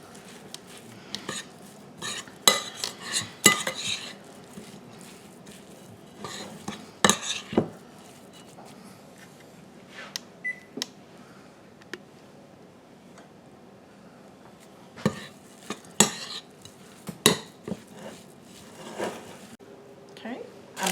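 A spoon stirs blackberry crumble mixture in a bowl, with intermittent clinks and scrapes against the dish, repeated in bursts under a person talking.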